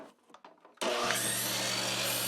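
A power saw rips a wooden board to width for a folding work table. After a few soft handling sounds it starts abruptly and keeps up a loud, steady roar.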